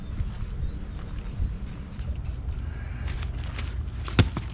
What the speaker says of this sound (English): So we've got too much wind coming through.